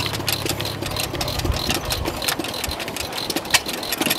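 A 9-horsepower Fairbanks Morse antique engine runs steadily, belt-driving a water pump at a machinery show, giving a continuous close mechanical chugging drone with rapid regular knocks and brief clanks.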